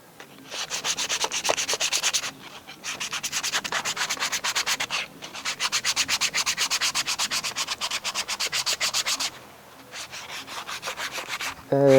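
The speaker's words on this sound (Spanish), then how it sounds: "Y ahora voy a lijar." Close, loud rhythmic rasping of sandpaper on wood in long bursts, pausing briefly between strokes before resuming.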